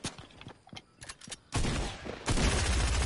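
Gunfire in a shooter video game: scattered shots and faint clicks, then from midway a loud, continuous volley of rapid shots that swells further near the end, with no talking.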